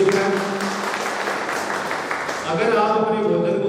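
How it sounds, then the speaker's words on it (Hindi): A seminar audience at a product training event breaks into applause, a broad clapping wash that runs underneath a loud voice speaking over it throughout. "एक जबरदस्त तालियां"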